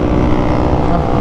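A Bajaj Pulsar NS200 motorcycle engine drones steadily while being ridden, a short, constant, fairly loud hum with no break.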